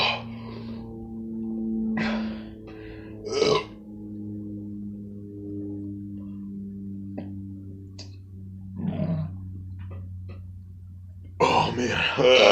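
A man lets out a few throaty belches after drinking cheap beer, scattered among his own talk, close to the microphone and fairly loud, with a rougher burst near the end.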